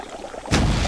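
In the Wonderbook Book of Potions game on PS3, a potion is poured into a cauldron: a short quiet lead-in, then a sudden loud liquid splash and pour that carries on to the end.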